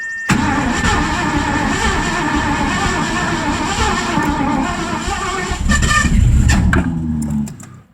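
Carbureted V8 swapped into a Mazda RX-7 cranking and catching, a loud, steady rough engine roar close by for most of the span before cutting off near the end.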